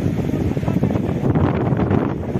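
Strong wind at an outdoor football match buffets the microphone in a continuous loud, rough rumble with gusty swells and no pauses.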